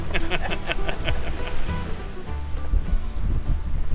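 Steady wind of about 25 knots gusting to 30 rushes past with waves washing against a moving sailboat, loud and close, with a brief voice at the start.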